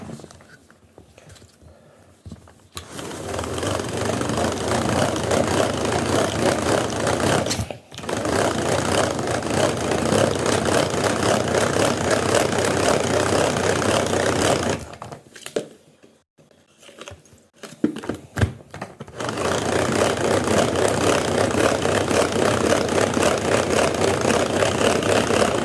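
An electric mixer runs at speed 1 through sponge cake batter sweetened with vanilla sugar, a steady loud whirring drone held for long stretches, broken by a brief stop near eight seconds and a longer pause midway before the motor resumes.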